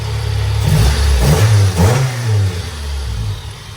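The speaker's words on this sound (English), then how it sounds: "Give her a little rev." A 1995 Honda Civic engine idles, then gets a couple of quick throttle blips that rise and fall in pitch before settling back to a steady idle, loud and close with no talking.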